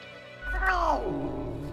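A frustrated cat meow from the video game Death and Taxes: one drawn-out, close meow that rises then slides down in pitch, over a steady low background hum.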